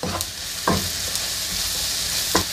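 Softened onions cook with flour in a pan, making a soft, steady sizzle with a few scraping stirs from a utensil breaking through at intervals, close and without speech.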